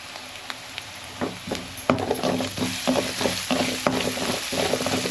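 Ginger garlic paste frying with onions in a pan for paneer gravy, a steady sizzle with repeated stirring scrapes in an even rhythm, close and fairly loud.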